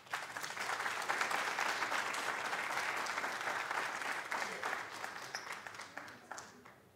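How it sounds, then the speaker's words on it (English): An audience at an oratorical contest applauds the contestants, and the full, dense clapping swells fast, holds steady, then thins and fades near the end. "One more round of applause, final round of applause for our contestants"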